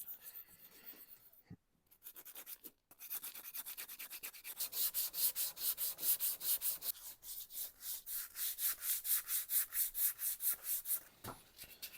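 Rhythmic back-and-forth strokes of sandpaper on a Victorian wooden table, fast and steady after a few hesitant starts, close and fairly quiet with no talking.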